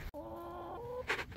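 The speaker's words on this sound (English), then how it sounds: "Right now we're going to take care of the chicken" A farm chicken gives a short run of clucks and tonal calls, close and fairly clear, with a brief rustle near the end and no talking.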